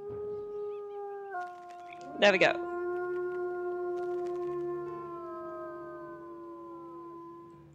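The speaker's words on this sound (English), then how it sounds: "Now we need to howl for this one." Several wolves howl together in the WolfQuest video game, long sustained tones sliding and overlapping for most of the clip, with a brief burst of snarling in the middle and a short spoken line.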